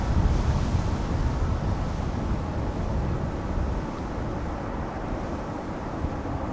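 Strong wind at Amsterdam Schiphol Airport, a loud continuous roaring buffet across the microphone with deep low rumble, steady and unbroken for the whole stretch, with no talking.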